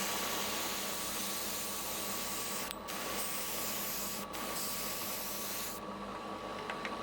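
An airbrush sprays paint onto a Bandai Star Wars Y-Wing model with the air valve opened wide, giving a loud, steady hiss that runs almost without a break, with a few brief dropouts and a shift near the end.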